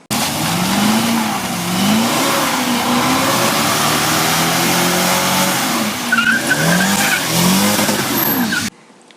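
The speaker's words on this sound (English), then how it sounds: "So a much bigger burnout that time." Monaro doing a burnout on street tyres at a racing event, engine roaring and revving in waves under constant tyre squeal and skidding, loud and close before cutting off abruptly at the end.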